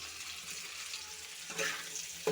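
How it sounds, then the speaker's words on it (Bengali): Chopped vegetables sizzle steadily in a pan with cumin seeds and bay leaf, a soft, even frying hiss with a brief louder burst of stirring toward the end. "ভালো করে মিশিয়ে একটু ভেজে নিচ্ছি।"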